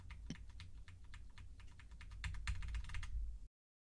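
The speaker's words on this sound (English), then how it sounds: "I'm just going to go ahead and start hitting my keyboards because there's going to be background noise." Rapid typing on a computer keyboard, a close, fairly quiet stream of crisp key clicks that picks up in density toward the end before cutting off.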